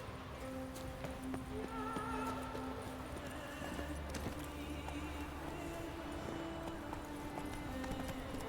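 Horse hooves clip-clopping in The Witcher 3 video game, a steady trotting rhythm over continuous in-game ambience and music, with a brief whinny-like tone mixed in.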